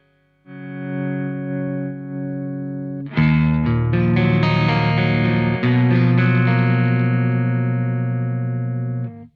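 Clean electric guitar through a Soldano SLO-100 amp, a sustained open chord ringing out, then a fuller strummed chord blooming and holding with long sustain, alone and close.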